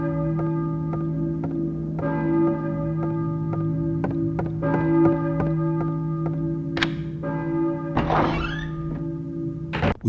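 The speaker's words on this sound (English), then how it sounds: "the distant toll of church bells echoes through the stillness" Church bells toll steadily in a Silent Hill video game town, struck repeatedly over a sustained humming drone, with a brief louder rustling burst near the end.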